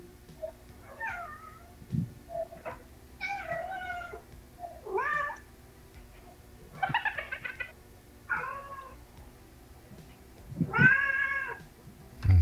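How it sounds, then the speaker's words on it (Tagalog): An angry cat gives a series of loud, drawn-out meows and wails at close range, about eight separate calls spaced irregularly, with quiet gaps and faint background noise between them. "Galit na yung pusa."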